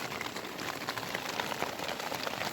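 Rain falls outside a window, a soft, steady, fairly faint patter of drops that continues throughout with no voices.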